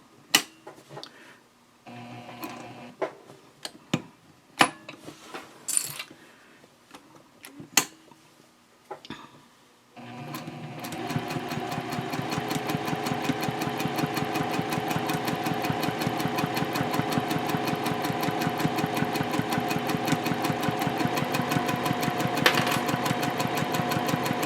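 A sewing machine stitches along the length of a tote handbag in one steady, continuous mechanical run that lasts from midway onward, after several sparse clicks and taps of fabric handling.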